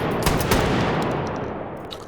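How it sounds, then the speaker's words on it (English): Loud shotgun blasts from pump shotguns in the VR shooter H3VR, two sharp booming shots close together near the start, each followed by a ringing decay, with no talking. "I actually went back and changed the shot sounds on a couple of the prior pump shotguns"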